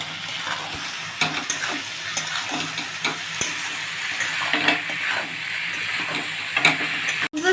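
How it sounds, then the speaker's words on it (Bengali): Vegetables such as yard-long beans and eggplant with turmeric and salt fry in fish oil, giving a steady close sizzle broken by frequent stirring scrapes and clicks throughout. "সব ভেজিটেবলস দিয়ে, সব মাছের তেল দিয়ে ভাজা হয়ে গেছে।"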